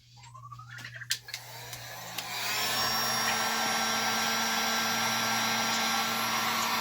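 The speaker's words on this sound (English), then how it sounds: "Now I just gotta take my heat gun and heat gun that." A heat gun starts up after a few handling knocks, then blows with a steady loud whirring roar while shrinking heat-shrink tubing on an RC semi truck's wiring.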